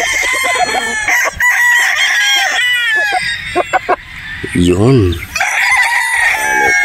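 A Gilmore gamefowl rooster crows loudly and close up in a long, wavering call, with clucks and someone talking in Filipino before and after.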